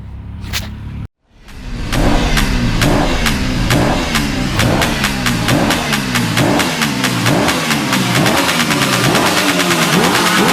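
A car engine cranks briefly, cuts out, then catches and runs with rapid rhythmic revving pulses, loud and close for about ten seconds, with no voices over it.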